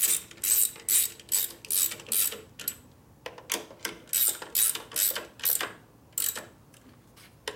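Ratchet wrench on a 1967 Harley-Davidson 74ci shovelhead FLH transmission during a rebuild, repeated bursts of fast clicking close up, each burst a turn of the handle with short pauses between.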